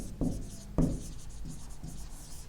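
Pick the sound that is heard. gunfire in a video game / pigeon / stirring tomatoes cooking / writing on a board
writing on a board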